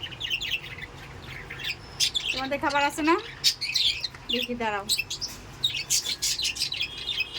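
Small birds chirping and squawking on a home balcony in the morning, with a bird repeatedly calling in quick rising bursts, while someone talks to them over the calls.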